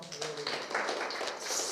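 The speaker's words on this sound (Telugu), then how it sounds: "ఒకసారి చప్పట్లు కొడదామా?" A short burst of audience clapping at a Telugu Christian sermon on Acts chapter 11, steady scattered hand claps from a gathered crowd lasting under two seconds.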